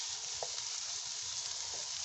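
Spiced potato and pea filling sizzles steadily in a pan as it is stirred, a continuous close hiss with a couple of faint scrapes, no voices.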